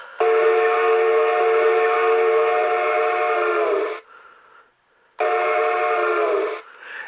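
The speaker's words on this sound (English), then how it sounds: "Whistle." A steam-style whistle from an MRC sound system on a Lionel model train sounds loud and clear, one long blast and then a shorter one, with faint hiss between.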